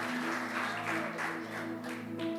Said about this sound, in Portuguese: Aplauda esse Deus maravilhoso!